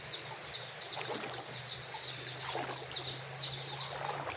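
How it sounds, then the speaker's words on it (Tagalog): A chicken clucks and chirps near a flooded home garden amid a steady wash of rushing floodwater and low hum, the bird calls faint and intermittent under the background noise. "Si manok ko doon."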